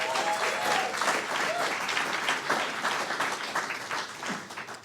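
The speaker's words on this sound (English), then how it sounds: "So let's give them another round of applause." An audience applauding a band after a performance at a book release event, dense steady clapping from many hands that fills the room for several seconds, fairly near.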